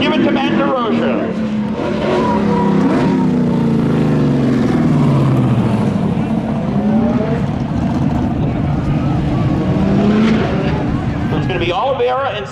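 Race cars drag down the straight at Seekonk Speedway, a Subaru among them, their engines roaring loudly and continuously with rising and falling pitch under a commentator's voice.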